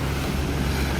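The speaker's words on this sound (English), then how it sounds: "I just wanted to record this water before I put my phone down" Sea water and waves at Fishery Bay near Port Lincoln wash steadily and close by, with wind buffeting the microphone throughout and no voices.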